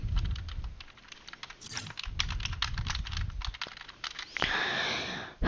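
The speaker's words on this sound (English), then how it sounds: "This is not my keyboard. This is a different keyboard." Rapid typing clatters on a computer keyboard at close range, keys tapping steadily in quick bursts, with a brief pause and a louder clack near the end.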